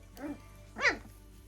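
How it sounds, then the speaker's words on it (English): Two short, high yips from a young dog, close by and fairly quiet, separated by a brief pause. "Puppies are getting big."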